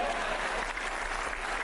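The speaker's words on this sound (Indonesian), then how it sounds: "Silakan tepuk tangan." Audience applause at an Indonesian stand-up comedy show, a dense steady clatter of many hands filling the room without pause, moderately loud and even throughout.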